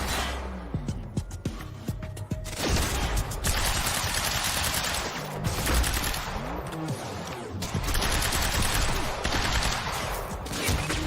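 Assault rifle fire in a video game, a dense, continuous rattle of rapid automatic shots sustained loudly throughout, with bursts blending into a steady roar.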